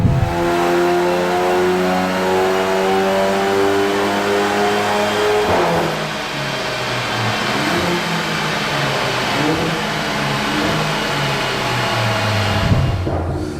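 A Stage 2 VW Golf GTI runs on a dyno, its engine revving loudly and climbing steadily before dropping off and winding up again, close and dominant with no voices.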